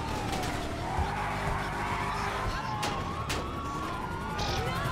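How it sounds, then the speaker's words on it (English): In a cops-and-robbers video game, a car's handbrake turn sets the tyres skidding in long sliding squeals over engine roar, with sirens wailing in a dense, continuous game mix. "I'm about to hit the handbrake and just turn completely left."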